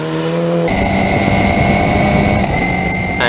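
Historic Formula Ford 2000 race cars howl past at Oulton Park, a loud, sustained engine roar that swells abruptly as the field arrives close by, with no talking.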